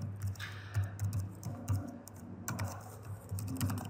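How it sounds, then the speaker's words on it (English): Keys pressed on a computer keyboard, close and clear: a continuous run of soft, uneven typing clicks and taps with no speech over it. "So if I press any key from the keyboard, I'm just gonna change the background to a random color"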